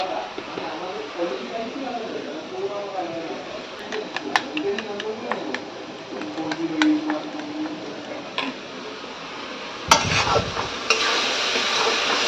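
Spices and onion frying in a pan with a little salt, a steady sizzle broken by scattered clicks and scrapes of stirring, with a voice talking over it throughout.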